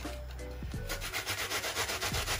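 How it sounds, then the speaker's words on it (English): An onion is grated by hand, giving close, rhythmic rasping strokes that settle into a quick even back-and-forth scraping after a short pause. "For my onion, I'm gonna grate it, right?"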